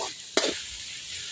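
Tomatoes hit a hot pan of oil and burst into a loud sizzle, then settle into a steady hiss of frying close by.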